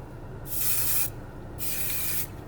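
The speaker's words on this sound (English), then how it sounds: "Did 2 little sprays of Ozium" Two short hissing bursts of Ozium air sanitizer sprayed inside a Kia car, each lasting about half a second, close and clear against quiet cabin background.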